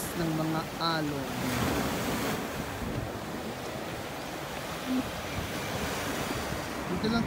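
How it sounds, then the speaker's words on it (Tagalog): Sea waves crash steadily against a sea wall at New Washington, a continuous loud wash of surf mixed with gusting wind buffeting the microphone. "Narinig mo ang hampas ng mga alon."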